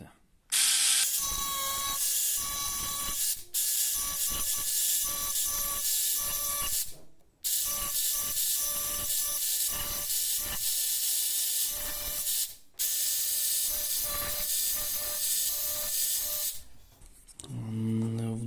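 A Parkside cordless engraver writes on stone, giving a close, high, rasping buzz in several long runs broken by brief pauses, with a low thud at the end.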